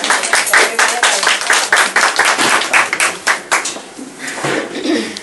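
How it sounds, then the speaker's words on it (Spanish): Dense, steady clapping from an audience at a formal public ceremony, loud and close with rapid overlapping hand claps that continue throughout without talk. "Vamos a aplaudir para"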